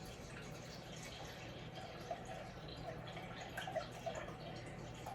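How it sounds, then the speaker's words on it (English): Water mixed with flower food is poured into a container for a small fresh spring flower centerpiece, making a steady, soft trickle that runs the whole time at a fairly low level. "Now I have my water and I have some flower food in it, so I'm just going to fill up my"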